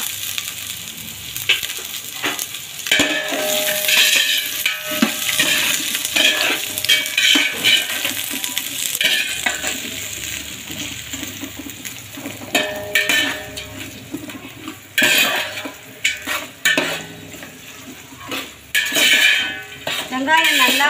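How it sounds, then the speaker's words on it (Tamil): Onions and green chillies sauté in a pan after cinnamon and cloves for chicken biryani, with steady sizzling, frequent metal utensil clanks and scrapes against the pot, and a faint voice in the background. "வெங்காயம் நல்லா வதங்கட்டும்."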